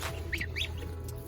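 Ducks and goslings kept in a cage give a few short nasal quacks and peeps over a steady low hum, close by and moderately loud, with no talking.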